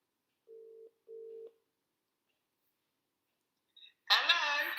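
A telephone rings over a loudspeaker for a live call: two steady ring bursts close together, then a pause before a brief click and someone starts talking at the end.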